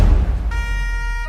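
Italian carabinieri police car siren cuts in after a burst of low rumbling noise, holding a loud, steady, piercing electronic tone to the end.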